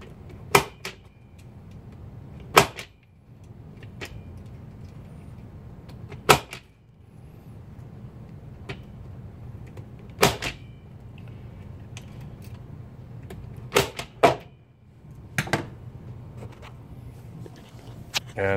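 A punch-down tool seats cable wires into a 66 block with a 66 blade, producing sharp spring-loaded snaps at irregular intervals, a dozen or so, against a quiet room hum.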